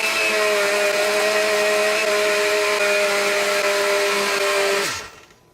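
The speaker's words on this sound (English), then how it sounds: "Now we just blend it all up." A blender runs steadily at high speed for about five seconds, pureeing a cucumber sauce with garlic and lemon juice, then spins down and stops near the end.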